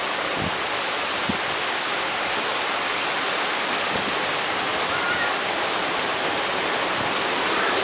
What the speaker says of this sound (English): Looks like it's going to be some flooding out here for sure if it rains like this for a long period of time.